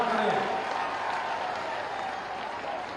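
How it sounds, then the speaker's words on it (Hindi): A large outdoor crowd applauds steadily and loudly to welcome Uttar Pradesh Chief Minister Yogi Adityanath at a public rally in Narnaund, Haryana, the clapping dense and sustained throughout. "एक बार जोरदार ताली बजा करके आदरणीय मुख्यमंत्री"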